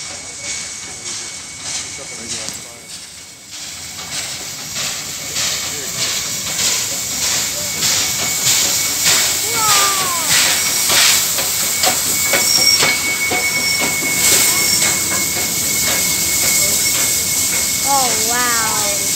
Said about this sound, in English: What we have coming up is the steam train. It's called the Kiama picnic train